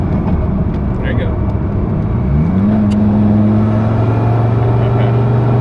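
A Dodge Viper with a manual gearbox pulls hard in third gear, its engine drone climbing steadily in pitch and loudness inside the cabin as a voice talks over it.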